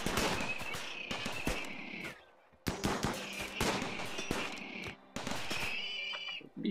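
Automated turret gunfire in the video game Rimworld, rapid bursts of sharp shots in clustered volleys separated by short pauses, loud and up front with no voices.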